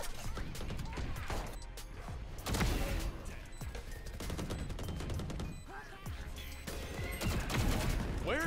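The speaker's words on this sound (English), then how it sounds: "Okay, that's a gun." Bursts of rifle fire and scattered shots in a Valorant match, fairly quiet and continuous, with game effects and occasional talking mixed in.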